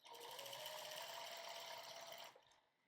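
A domestic sewing machine stitches a quilt in one steady, rapid whirring run for about two seconds, close and even, then stops abruptly.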